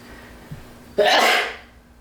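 A single sharp sneeze bursts out after a brief intake of breath, loud and close, then fades away.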